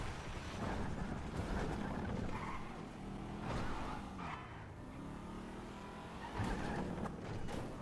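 A car is driven in the video game GTA 5, with a steady engine drone, tyre noise and a few skidding squeals.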